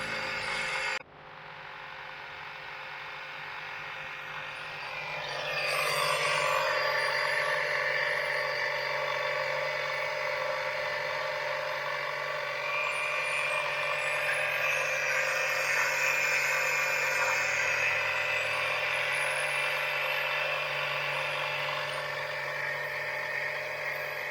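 A transmission fluid extraction pump starts abruptly and runs with a steady, moderately loud mechanical hum and whine that holds for over twenty seconds, with no talking.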